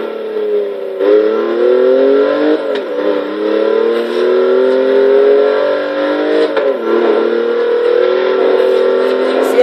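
In the Forza Horizon 3 racing game, a 2014 BMW i8 holds a loud, steady high-speed engine drone near 200 mph, its pitch climbing gradually with a couple of brief dips as gears shift.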